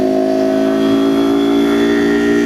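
A motorcycle exhaust drones loud and steady, holding an even, close-up engine note with no breaks for the whole stretch.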